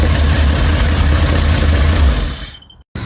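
A 1986 Dodge Ramcharger engine idles steadily and loudly with the exhaust off, a low rumbling drone that runs without talk before cutting out abruptly near the end.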